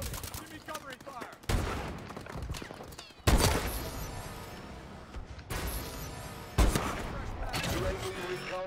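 Gunfire in the video game Call of Duty Advanced Warfare: bursts of rapid shots in several loud volleys separated by brief lulls, with heavy booming impacts and a voice talking over the action.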